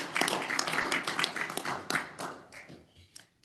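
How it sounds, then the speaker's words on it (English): Scattered applause from meeting participants on a Zoom call of a civil defence emergency management joint committee, a few seconds of uneven clapping and taps that thin out and fade toward the end. "suggest we give her a round of applause for that"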